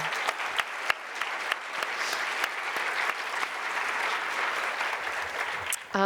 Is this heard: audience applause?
yes